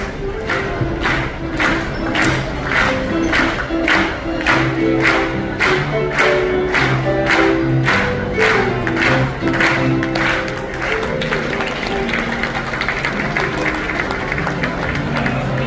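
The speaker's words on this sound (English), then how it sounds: "Start clapping!" Guests at afternoon tea in the Queen's Room aboard the Cunard liner Queen Mary 2 clap steadily as a crowd, dense rhythmic applause running throughout with murmuring voices and some thumps beneath.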